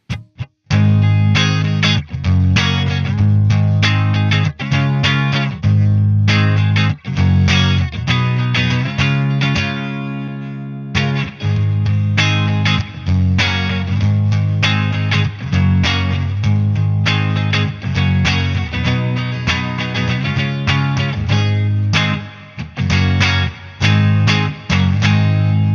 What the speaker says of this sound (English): halfway through the playing, I'll kick in the effects loop, which has a TC Electronic Hall of Fame reverb inside it.